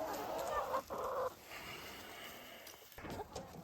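Chickens cluck close by outdoors in short bursts, moderately loud over low ambient noise.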